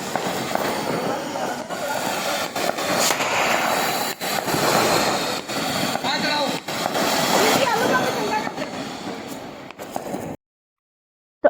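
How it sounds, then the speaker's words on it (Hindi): Diwali firecrackers and fireworks set off by a family outdoors, a loud continuous crackling roar broken by sharp bangs, lasting about ten seconds before cutting to silence. "हम सब साथ में मिलकर पटाखे चला रहे हैं"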